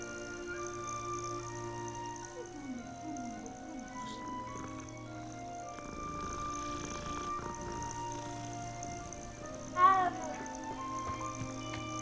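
A cat meows in the Hogwarts Legacy video game. Its single clear call rises over a steady bed of ambient game sound and background music.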